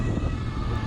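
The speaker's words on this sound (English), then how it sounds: "There's an ambulance coming" An ambulance siren sounds loud and steady amid heavy traffic, blending with a constant low road rumble for the whole short stretch, with no speech over it.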